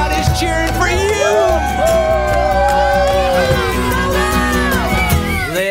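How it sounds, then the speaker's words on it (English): A loud, dense crowd cheers, whoops and shouts for marathon runners on First Avenue in Manhattan, with excited voices rising and falling throughout. "The crowd is cheering for you."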